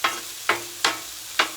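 Ground hamburger and rice fry in a pan with a continuous hiss. Four quick scraping stirs stand out above the sizzle, close and evenly paced.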